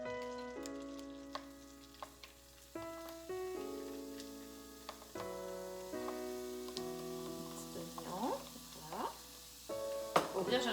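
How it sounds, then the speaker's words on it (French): Onions cooking in butter in a heavy, thick Tupperware frying pan give a soft, steady sizzle close by, broken by clinks and tonal scraping of a utensil and several pitched squeaks near the end. "On fait revenir un peu les oignons."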